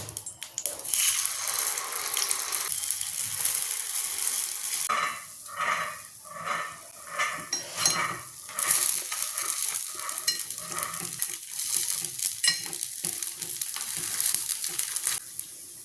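Paniyaram batter poured into a hot pan sizzles loudly and continuously, joined by a rhythmic run of soft taps and scrapes partway through.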